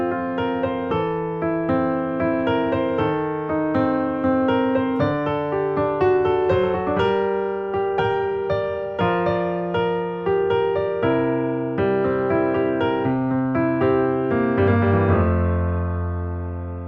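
Solo piano plays the first verse of a song with steady, full chords and a melody line that continue unbroken to a held final chord.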